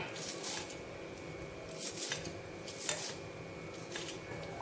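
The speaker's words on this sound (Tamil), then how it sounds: "சும்மா அப்படியே கத்தி வச்சுட்டு கொஞ்சம் சின்ன சின்னதாக கட் பண்ணிக்கலாம்." Knife chopping fenugreek leaves into small pieces, heard as a handful of crisp, irregular cutting strokes close by, with quiet pauses between them and no talking.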